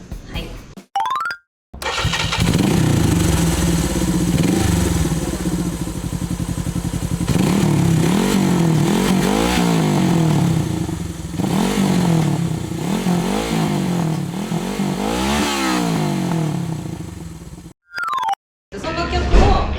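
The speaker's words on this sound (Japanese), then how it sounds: "それを排気音で作ってみるという企画です。" A Suzuki GS400 motorcycle's exhaust blares up close, revved repeatedly in rising and falling sweeps with brief gaps and starts, loud throughout, shaped into a melodic pattern.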